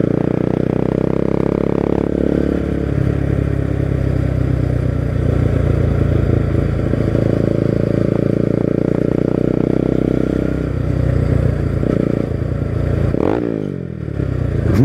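A Bajaj Pulsar NS200 motorcycle fitted with an Akrapovic exhaust is ridden, its loud, close engine drone holding steady with some rattle before the pitch shifts and sweeps near the end.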